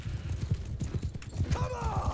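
Galloping horse hooves in the Mount & Blade 2 Bannerlord video game, rapid rhythmic thuds close by with a brief whinny near the end and a voice talking over them.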